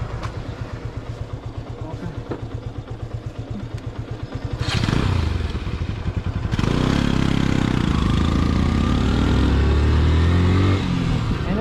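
An old, long-maintained motorcycle rumbles with a steady thumping engine beat on a road ride, then heavy wind roar swells and largely masks the engine as it picks up speed.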